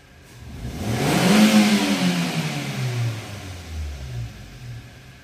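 A car engine on a workshop check of its MAP, IAT and ISC actuator revs up sharply as the throttle opens, swelling to a loud roar and then falling back to idle. The rumble is close and steady, with no talk.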